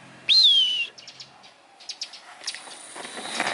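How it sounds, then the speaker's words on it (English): A hawk gives a single loud, descending whistled scream near the start, followed by faint chirps and rustling outdoors. "Oh, another hawk."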